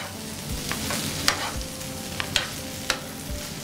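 Rice and salt are stirred on a hot tava for quick tava rice, giving a continuous sizzle broken by several sharp spatula clinks and scrapes against the iron, close and clear with no voices.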